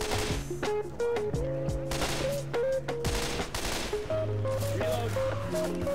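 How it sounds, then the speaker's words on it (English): Rapid gunfire in the zombie shooter Left 4 Dead 2, bursts of shots crackling over game music and effects, fairly loud and continuous for several seconds. "Quit fucking shooting me, Rochelle."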